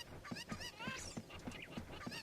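Cuckoo chickens in the video game Ocarina of Time cluck in a rapid, evenly spaced series of about seven honking calls, close and fairly quiet, with no speech.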